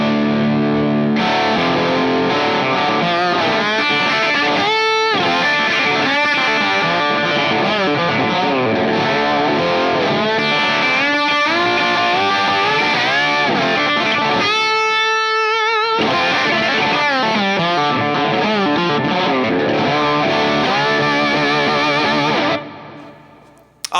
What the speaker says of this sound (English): And this guitar is a pretty rich sounding, lightweight.